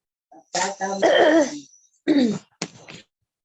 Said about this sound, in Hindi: सबको खांसी हो रही है, किसी का गला खराब है।